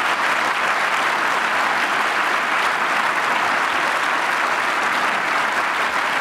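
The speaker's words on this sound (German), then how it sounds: "Auch da einen herzlichen Beifall, ne, für unsere Künstler." Sustained audience applause for performing artists at a diocesan reception, dense steady clapping from a large crowd, loud and even throughout with no pauses.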